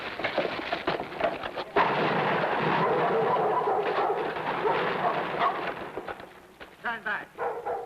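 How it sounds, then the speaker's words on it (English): A stored-gunpowder blast in a western during stormy weather: a loud, sustained rumbling roar with crackling bursts, fading into scattered pops while voices shout. "There might be more explosions."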